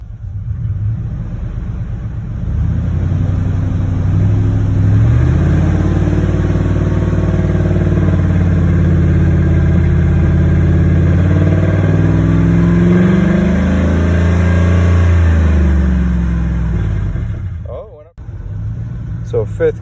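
A 10th-generation Ford F-150 drives in fifth gear with a loud, steady engine drone that climbs gradually as it revs up, then cuts off abruptly near the end; someone talks over it.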